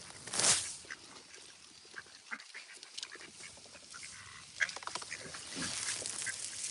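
Ducks quack in a mixed flock, calls scattered through the scene, with a loud near burst early and others at middling distance over steady outdoor background.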